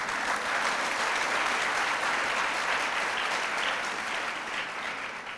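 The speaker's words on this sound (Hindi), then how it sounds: "मैंने कहा ताली ठीक से बजाइए तो आपने दोबारा बड़ी अच्छी बजा दी" An audience at a spiritual lecture on the Hanuman Chalisa bursts into sustained, dense applause, many hands clapping together loudly and evenly throughout, fading slightly toward the end.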